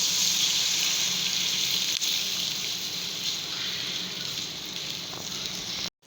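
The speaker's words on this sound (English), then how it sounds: "Now we will add 1 cup of milk here." Milk pours steadily into a pan of garlic cheese sauce, making a continuous close, hissing gush that runs about six seconds before stopping abruptly.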